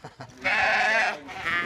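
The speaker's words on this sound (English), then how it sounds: "So all the sheep are being brought in here." Sheep bleating in a livestock holding area as the flock is brought in, two loud, drawn-out nasal bleats close by with a short pause between them.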